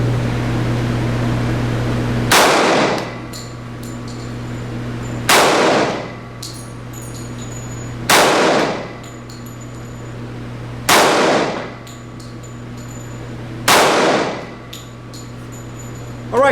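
A Walther PPQ 45 pistol fires five loud, sharp shots at an indoor range, evenly spaced about three seconds apart, over a constant ventilation hum.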